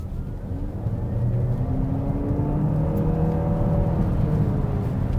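BYD Seal U DM-i hybrid SUV accelerating hard from a turn, a steady close engine drone that climbs gradually in pitch and holds loud for several seconds.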